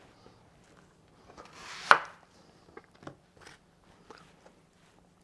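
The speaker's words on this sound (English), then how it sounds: "Let us start with the slicing the onion" An onion being sliced thinly with a knife for Persian street-food jaghoor baghoor, heard as a series of quiet, irregular crisp cuts against a board, with one sharper crunch near the start, close and otherwise quiet.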